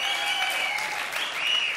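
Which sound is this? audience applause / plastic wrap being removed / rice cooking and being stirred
audience applause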